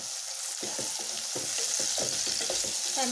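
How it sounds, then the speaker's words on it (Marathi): Chopped tomatoes fry and sizzle in a pan while cooking matki rassa, a hot steady sizzle broken by repeated stirring scrapes, with no talk. "टॅमॅटोही चांगला परतून घ्यायचं।"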